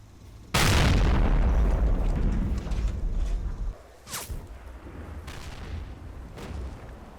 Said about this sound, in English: The anti-tank gun continues to fire.